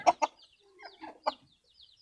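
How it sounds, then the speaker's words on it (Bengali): Farm and local desi hens cluck in a few short, close bursts with quiet gaps between the calls. "এখানে একটা ফার্মি মুরগি আছে আর বাকিগুলো আমার দেশি মুরগি"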